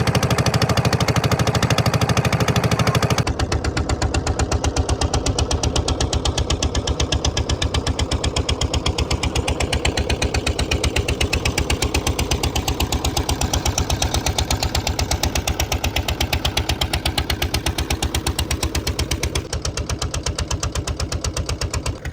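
A small motor boat's engine chugs loudly and steadily at close range in a rapid, even pulse, carrying on without a break and with no voices.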